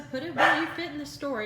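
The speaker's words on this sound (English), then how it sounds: "Sorry about my dogs barking in the background." Dogs bark and yip indoors behind someone speaking steadily, their short barks coming in a few bursts beneath and between her words, moderately loud and close.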